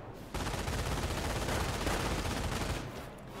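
A machine gun lays down suppressing fire in Company of Heroes, a dense, unbroken roar of rapid shots lasting about three seconds and then cutting off, loud and with no talk over it.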